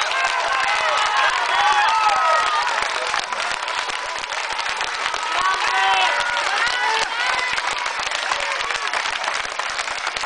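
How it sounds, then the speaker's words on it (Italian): A large concert audience in Scillato claps and cheers loudly, with whoops and shouts rising over continuous applause. "Vieni Roby, questo è l'applauso di Scillato."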